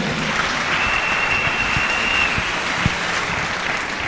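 A church congregation at a sermon breaks into sustained, dense applause that stays loud and even throughout, with no voices rising above it.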